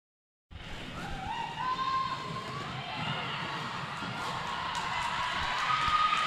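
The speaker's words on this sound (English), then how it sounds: "the crowd is going absolutely bananas for 111 Bianca" Crowd at a roller derby bout between KCR and PCR cheering loudly and steadily, a dense roar of voices and shouts that swells a little toward the end, heard close and continuous.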